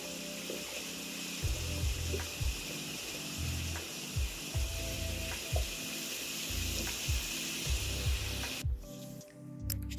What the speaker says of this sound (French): Je tenais à vous partager le bruit de l'eau qui coule. C'est un petit ruisseau qui dévale la montagne.